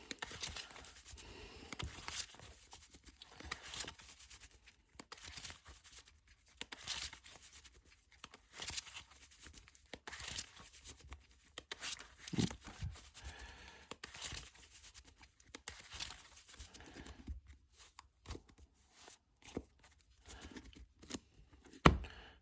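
A deck of cards being shuffled, with soft repeated riffling and crinkling bursts in uneven rhythm, faint and close, with no talk.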